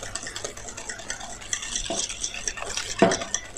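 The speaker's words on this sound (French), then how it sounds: "on mélange vite pour éviter les grumeaux" Cornstarch mixture whisked quickly in a bowl to prevent lumps, producing close, rapid scraping and stirring strokes with occasional sharper clinks against the bowl, steady and without talk.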